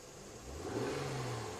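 A Honda Accord engine with a VCM misfire revs up from idle, a steady mid-pitched rising drone that stays fairly loud and continuous throughout.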